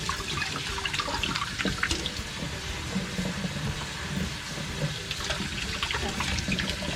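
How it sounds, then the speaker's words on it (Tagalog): Running tap water splashes steadily as vegetables are rinsed under a kitchen faucet while cooking sinigang na tanigue at night, a continuous close hiss and patter with no talk. "make sure natin guys na bago natin hawain yung gulay, hugasan natin mabuti"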